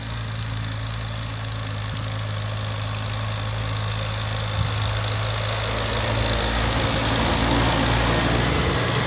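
A 1952 Farmall Cub tractor engine idles with a low, steady rumble and chugging throb, continuous and close throughout.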